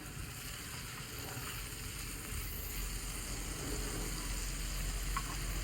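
Spice paste sizzling in hot oil in a pan for a mushroom, soybean and potato curry, a steady quiet crackle that swells slightly toward the end, no voices.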